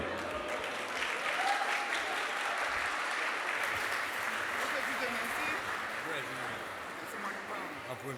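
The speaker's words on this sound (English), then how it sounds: "please give a big round of applause right now for Mimi and Edward" Sustained applause from a large crowd at an awards ceremony, a steady roar of clapping with faint cheering, heard from a slight distance and holding evenly for about eight seconds.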